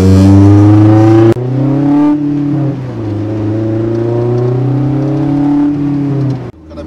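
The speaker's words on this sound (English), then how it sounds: "there was a little downshift action going on just now" A stripped-out Honda S2000 with its sound deadening removed, heard from inside as the engine drones loudly, cuts sharply as a downshift drops the revs, then climbs again and holds a steady note before easing off.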